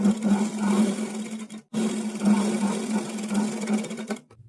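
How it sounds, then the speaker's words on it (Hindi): A sewing machine stitches blouse fabric in a steady, fast mechanical whir with a rhythmic hum, close and continuous, broken by one brief pause midway before running on again. "इस तरीके से हमने ये सिलाई लगा ली है।"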